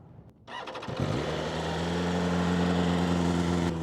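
A BMW M1000RR sport motorcycle with a loud aftermarket exhaust cranks and fires up, then settles into a loud, steady, rumbling high idle close by.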